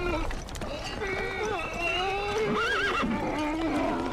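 Horses climbing uphill give loud, close whinnies with wavering rising and falling calls, while people talk over them.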